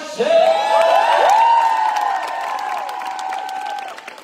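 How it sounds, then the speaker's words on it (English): A fan-meet audience in Barcelona cheers for the translator, with loud, sustained high-pitched screaming and whooping over scattered clapping. The noise peaks early and slowly fades over a few seconds. "I can go out of the stage without giving a big applause for our translator"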